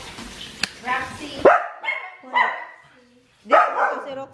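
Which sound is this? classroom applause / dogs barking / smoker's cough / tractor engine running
dogs barking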